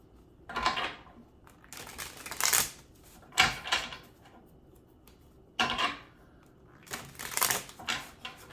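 Tarot cards shuffled and pulled from the deck: several close, crisp riffling and sliding bursts with short pauses between them, and no talking.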